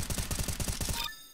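Rapid burst of rifle fire from an M4A1-S in Counter-Strike: Global Offensive, a dozen or so close, evenly spaced shots ending abruptly, leaving a brief ringing tail.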